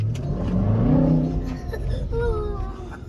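A Land Rover Defender V8 engine revs, a rising then falling low roar that swells, eases and picks up again, with people talking over it.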